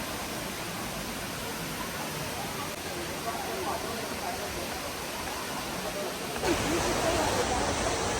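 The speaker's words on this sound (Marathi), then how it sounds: "एक धबधबा दिसतोय चला आपण तो बघूया" A roadside waterfall in the mountains between Gangtok and Lachung, a steady, dense rush of falling water roaring continuously, broad and constant, with no voices heard.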